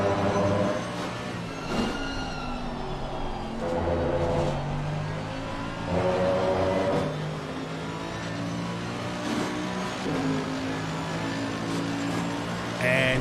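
Mercedes and Lamborghini race car engines in a video game endurance race at Misano rev and wail repeatedly, pitch climbing and dropping through gear changes, with occasional cars passing.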